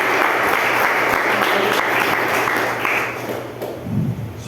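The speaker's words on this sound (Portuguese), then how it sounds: "Aplauda o Senhor por isso." An audience applauds in a church service, a dense, close burst of clapping that holds strong for about three seconds and then thins out as a voice starts to come through at the end.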